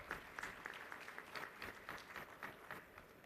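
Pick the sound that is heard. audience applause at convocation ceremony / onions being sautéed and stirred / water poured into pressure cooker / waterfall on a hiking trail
audience applause at convocation ceremony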